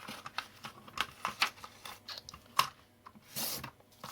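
Scissors snipping through paper pouches in quick, irregular little cuts with crisp rustling, faint and close.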